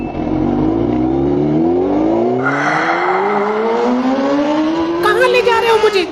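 A Honda motorbike engine revs up and pulls away, its pitch rising steadily as it accelerates, loud and close, with a brief burst of higher noise near the end.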